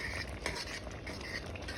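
Rice boiling in a pot is stirred, giving soft scraping and bubbling, wet sloshing at a low, steady level without any talk.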